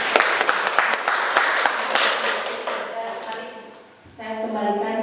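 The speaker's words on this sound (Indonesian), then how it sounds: "Tepuk tangan untuk kita semua." Audience applause at an Indonesian online teacher mentoring session: a short burst of scattered claps fades out after about three seconds, then a voice speaks.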